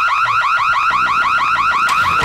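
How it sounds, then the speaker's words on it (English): Burglar alarm from The Sims video game: a loud, continuous electronic warble rising and falling in fast regular cycles, with no talk over it. "Burglar alarm!"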